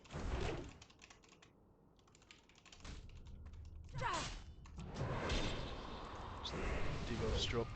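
Computer keyboard typing during a solo World of Warcraft raid fight, with bursts of close, rapid key clicks mixed with game sounds and someone talking over them.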